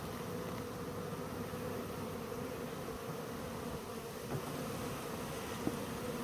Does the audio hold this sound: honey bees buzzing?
yes